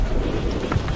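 Rain and a low thunder rumble in the war video game Call of Duty: Vanguard, a dense steady hiss of falling rain with a deep rolling rumble beneath, loud and continuous without talk.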